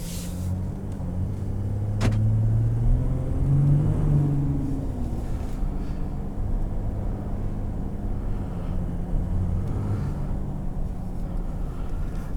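Cabin view of a 2018 Ford F-150 Lariat with the Power Stroke diesel driving in sport mode, a low steady engine drone that swells briefly as it accelerates, then settles into an even road rumble.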